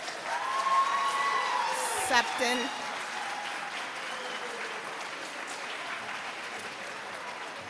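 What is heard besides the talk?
audience applause at graduation ceremony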